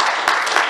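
Congregation applauding in church, a dense burst of clapping that fills the short moment, loud and close with no voices over it.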